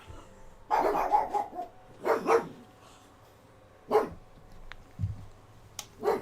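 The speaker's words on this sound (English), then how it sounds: "No idea what you're barking at." Several dogs bark indoors in separated bursts, a cluster of barks followed by single sharp ones, close and fairly loud over a quiet background.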